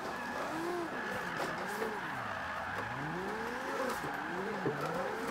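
A car drifting sideways in Forza Motorsport 5, driven with a wheel: a steady engine drone with revs that rise and fall, under continuous squealing tires, with no pause across the whole stretch.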